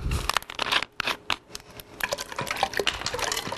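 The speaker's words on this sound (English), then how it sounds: "You're gonna pour in some ginger ale." Ginger ale poured into a Halloween punch, a fizzy liquid splash and gurgle running up close and fairly loud, with uneven bursts of sloshing and no talk.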